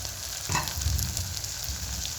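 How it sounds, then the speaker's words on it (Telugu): Eggplant curry frying in a pan gives off a steady, close sizzle, with a brief stirring scrape partway through and no voices. "ఒక 10 మినిట్స్ అది కొంచెం ఫ్రై అవనిద్దాము"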